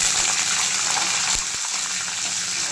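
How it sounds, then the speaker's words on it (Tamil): Mustard seeds and urad dal spluttering in hot oil for samba rava upma, a dense, steady hiss and crackle close by, with a couple of sharper pops partway through. "கடுகு உளுந்து நல்லா பொரிஞ்சிடுச்சு"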